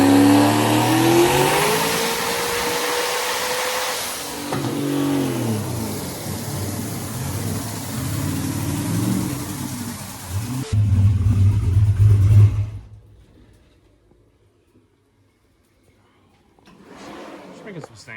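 A 1200 horsepower car engine revs hard and loud up close, rising and falling through several bursts before a sharp cutoff and near silence, then faintly returns; people talk partway through.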